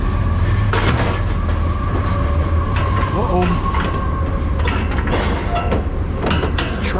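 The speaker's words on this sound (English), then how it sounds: "It's a train." A loud, steady rumble of a train rolling past close by, with rattling, clanking metal and brief squeals over a constant low roar; a voice briefly exclaims.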